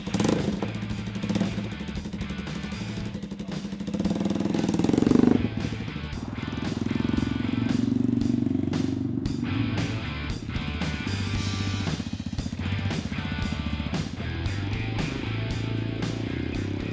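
Motorcycle engine running steadily as it rides around, a loud continuous drone with rising surges of revving and clattering mechanical noise throughout.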